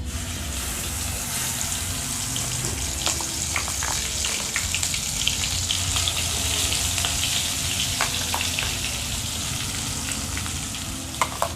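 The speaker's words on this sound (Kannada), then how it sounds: "ಸೊ ಇವಾಗ ಈ ಮಸಾಲಾನ ನಾನು ಇದಕ್ಕೆ ಹಾಕಿ ಫ್ರೈ ಮಾಡ್ತೇನೆ" Ground masala for a Mangalore-style fish curry fries in a pan with a constant loud sizzle, broken by occasional light spoon clicks and stirring.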